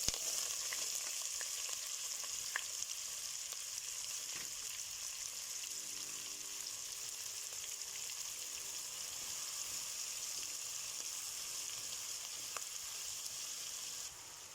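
Two large chopped onions frying in a hot pan give a steady, close sizzle with faint crackles and pops and occasional stirring scrapes, continuous throughout with no talking.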